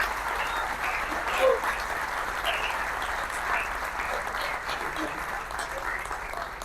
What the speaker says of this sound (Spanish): un fuertísimo aplauso aquí para la historiadora Paula Peña.